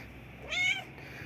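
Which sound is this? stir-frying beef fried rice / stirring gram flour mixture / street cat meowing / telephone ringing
street cat meowing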